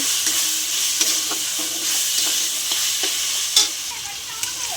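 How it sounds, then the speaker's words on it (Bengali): Chicken kosha masala with turmeric, coriander powder, cumin powder and a whole garlic bulb sizzles in a pan. Steady frying hiss runs under frequent scraping stirs and a few sharp clicks of the spoon. "ভালো করে মশলাটা কষিয়ে নেব।"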